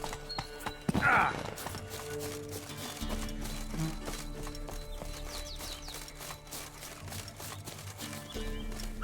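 Roach, a horse in The Witcher 3, gallops with rhythmic hoofbeats under game music, with a brief neigh near the start and a steady clip-clop carrying on close by.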